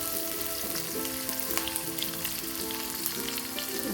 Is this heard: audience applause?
no